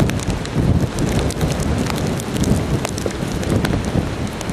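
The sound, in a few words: heavy rain during Hurricane Irene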